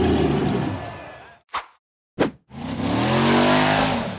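An off-road buggy engine revs hard as it climbs a muddy dirt slope, loud and raw. The sound cuts out in the middle between two short bursts, then returns with rising revving.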